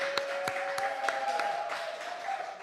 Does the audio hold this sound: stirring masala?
no